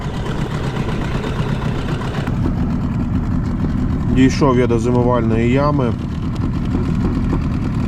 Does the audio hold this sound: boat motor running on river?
yes